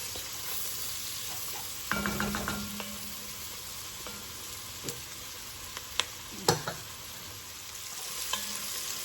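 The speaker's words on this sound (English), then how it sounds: "we're going to just cook this, stir it occasionally until our onion gets soft" Onions sautéing in a pot for Hoppin' John, with a steady sizzle and scattered scrapes and knocks of stirring across the middle, no voices.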